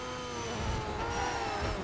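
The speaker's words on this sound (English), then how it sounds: "we got loads of wheel spin at the start" A race car in TOCA Race Driver 3 revs hard with wheel spin at the race start, giving a steady, loud engine roar with layered engine tones throughout and no talk.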